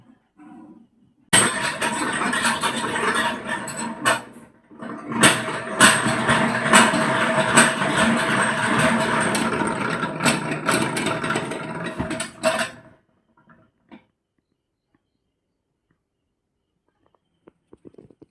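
A honey extractor machine spins uncapped honeycomb frames, giving a steady mechanical whirring rumble with clinks and rattles for about eleven seconds, then stopping abruptly into near silence; no one talks.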